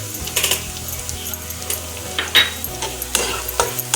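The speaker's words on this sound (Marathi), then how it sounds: "आता याच्यामध्ये आपण हळद आणि धणाजिरा पावडर टाकणार आहोत।" Turmeric and coriander-cumin powder stirred into onions frying in a pan for a soybean bhurji, with close scraping and clinking of a spoon against the pan over a soft sizzle.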